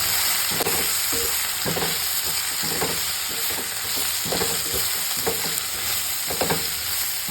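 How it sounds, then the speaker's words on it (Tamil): Tamarind curry ingredients sautéed lightly in oil, a continuous close sizzle with repeated spoon scrapes and stirs against the pan at an irregular pace, no voices. "இதை ஒரு தடவை இப்படி எண்ணெயில் லைட்டாக வதக்கிடுங்க"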